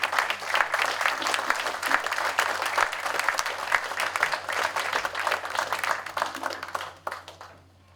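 Audience applause welcoming Paul Leffler up to give the invocation at an American Legion Post 509 veterans forum, a steady dense wash of clapping from a crowded room that tapers off over the last second.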